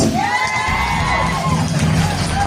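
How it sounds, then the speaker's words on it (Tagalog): An audience at a Filipino event honoring Hall of Fame members cheers and whoops in a loud, continuous roar of crowd voices, with shouts rising over the din throughout. "Palakpak naman po dyan."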